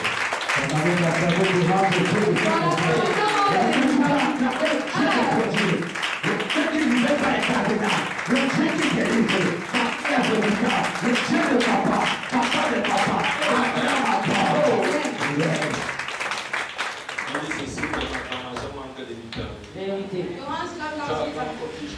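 Church congregation at a Sunday service breaks into dense, sustained applause and cheering that fills the room, thinning out toward the end.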